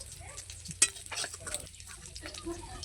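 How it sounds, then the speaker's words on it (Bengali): Boroli fish fry in oil in a pan and are turned. Soft sizzling runs under clinks and scrapes of a utensil against the pan, and there is one sharp knock partway through. "আমি বরলি মাছগুলো ভেজে নেব তো বন্ধুরা আমি উল্টে পাল্টে ফ্রাই করে নেব"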